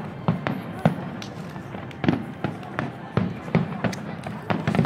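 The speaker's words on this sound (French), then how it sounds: "Mais ça, c'est des feux d'artifice sur Amazon" Fireworks bought on Amazon going off in a rapid series of sharp cracks and pops, some close and loud, others lighter, with people talking underneath.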